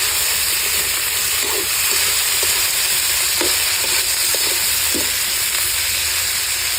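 Tomatoes frying in a very hot pan for a Filipino crab-and-tomato dish (kinamatisang alimango), a steady broadband sizzle running throughout with soft scattered taps and scrapes of stirring, close and fairly loud, with no talking.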